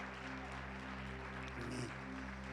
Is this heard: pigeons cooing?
no